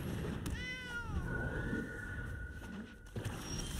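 A single cat meow plays as the Catgeist card effect in a Magic card video game, a short descending electronic-sounding call over a low background hum, with no talk.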